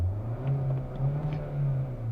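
A 2020 Hyundai Sonata with the 1.6 engine in sport mode pulls under acceleration, a steady low engine drone with a faint whir above it, close and continuous, with no talking.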